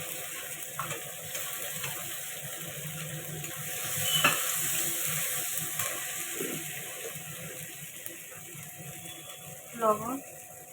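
Ginger-cumin paste with coriander, chilli powder, turmeric and tomato fries in oil in a wok for a jackfruit curry. A soft sizzle sits under scraping stir strokes, with a louder clatter of the spoon near the end and some faint speech.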